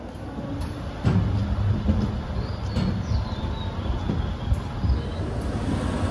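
The Kamrup Express pulls out of a quiet, cold station with a steady low rumble of rolling wagons and a few clanks and thumps, heard from on board under a constant hiss.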